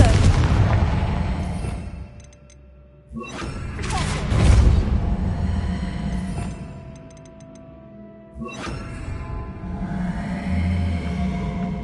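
Confringo blasting spells exploding in Hogwarts Legacy, a series of loud booming blasts with crashing debris and rumbling tails, separated by quieter gaps, with no talk over them.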